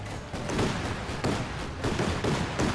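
Bofors gun suppressive barrage in the Company of Heroes 2 strategy game sounds as a rapid series of rhythmic booming cannon shots, repeating roughly every half second over a dense battle rumble, with no voices.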